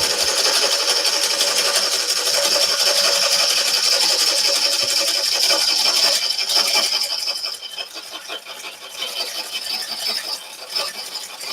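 Rasping scrape of a gouge cutting a live edge burl bowl spinning on a wood lathe, a steady close-up hiss that softens and turns intermittent toward the end.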